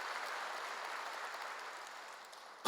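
Church congregation applause during a sermon, a faint, distant wash of clapping that slowly fades, ending with a sudden loud thump.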